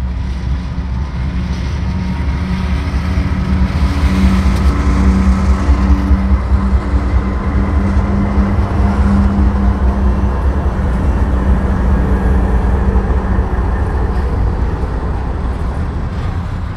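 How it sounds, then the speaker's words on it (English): A CSX freight train eases slowly past the former SX Tower at Somerset Yard as the slack rolls in, a long, steady low rumble of rolling cars that swells slightly midway and holds without voices. "the slack rolls in as they ease past the former SX Tower"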